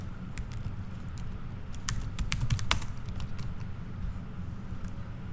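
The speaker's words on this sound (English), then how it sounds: "Type submersible pump into the first line of the search form." Fingers type a search on a computer keyboard in quick, uneven bursts of close, crisp key clicks over a quiet room hum, with no voices.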